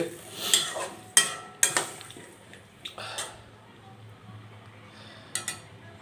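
Spoon stirring a bean and mustard curry (sheem shorshe) in a pan, a few scraping, clinking strokes spaced over several seconds, close and moderately quiet with no talk.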